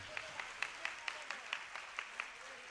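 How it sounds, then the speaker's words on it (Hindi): Hands clap in a steady, evenly spaced rhythm for children at a yoga centre event in Ulhasnagar, a dozen or so sharp claps, fairly faint and roomy. "कम से कम इनके लिए जोर से तालियां बजती है कि नहीं?"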